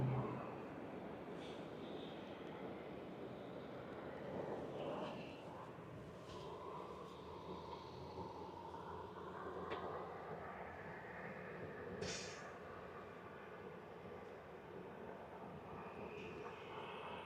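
A WestJet airliner heading to Toronto drones faintly overhead, a low, distant, wavering engine rumble that rises and falls gently for a while without any speech.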